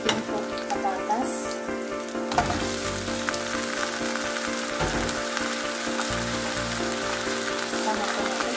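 Potatoes drop into a hot pan for chicken afritada and sizzle loudly, a dense continuous frying hiss with a few stirring shifts, no talking over it.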